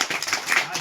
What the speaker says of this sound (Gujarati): તાળીઓના ગડગડાટથી બતાવો મિત્રો.